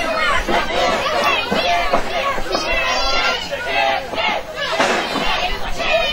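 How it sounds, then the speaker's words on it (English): A crowd of fans at a New Midwest Wrestling match chants and shouts together in a steady, loud roar of massed voices with rhythmic surges throughout, no single speaker standing out. "they're chanting chicken right now"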